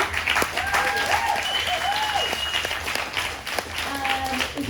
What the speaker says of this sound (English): who we definitely have to give a big round of applause to